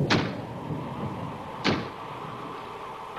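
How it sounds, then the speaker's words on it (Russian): Two sharp wooden bangs about a second and a half apart, a door knocking shut in the wind, over a steady low windy rumble. "И дверь от ветра стучит."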